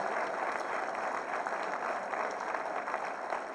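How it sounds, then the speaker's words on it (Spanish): Crowd at a political forum applauding to welcome the moderator, a continuous, even roar of many hands clapping, heard at a distance and steady from start to finish. "Fuerte el aplauso para él, por favor"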